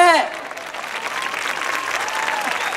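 Warm crowd applause at a live outdoor show in Sortino, opening with a sung or shouted voice cut off as the steady, fairly loud clapping takes over and continues.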